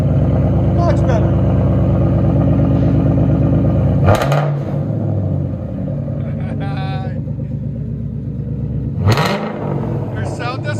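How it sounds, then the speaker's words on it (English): A Ford Mustang GT with rear muffler delete, Dynomax race bullets, active exhaust delete and a center X-pipe idles loudly and steadily, with two sharp revs blasting out about five seconds apart. Someone talks over the exhaust. "Ford Mustang GT, rear muffler delete with Dynomax race bullets and active exhaust delete"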